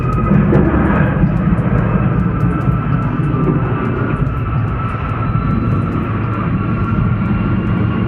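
A NASA WB-57 research aircraft lands at Ellington airport in Houston, scraping the runway. Its loud, steady jet roar fills the scene throughout, with no talking.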